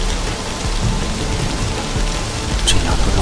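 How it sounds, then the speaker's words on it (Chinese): Heavy rain pours steadily outside, a dense, loud and unbroken hiss of drops hitting surfaces with no voices. "少爷，外头这么大雨，您要去哪儿？"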